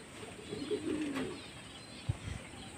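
Pigeons on a rooftop give a few soft, low coos close by, with a light knock and faint rustling against a quiet outdoor background.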